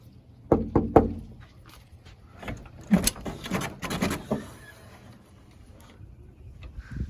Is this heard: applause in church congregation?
no